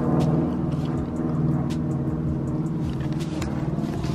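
A car with no exhaust system rolls up, its engine a steady low rumble with harmonic drone close by, fairly even throughout with slight swells.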